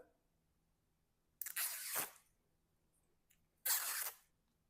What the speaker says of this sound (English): go ahead and take off the tape on the backside